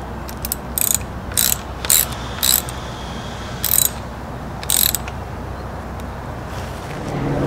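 A ratchet wrench loosens a bicycle handlebar bolt in several separate quick bursts of crisp clicking, close and loud, with short pauses between strokes.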